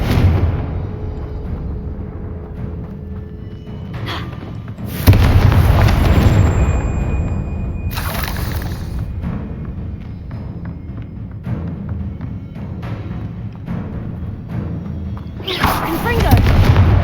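Hogwarts Legacy Confringo spell blasts: three heavy fiery explosions spaced several seconds apart, each a sharp booming burst with crackling tail, over a steady low game-battle rumble.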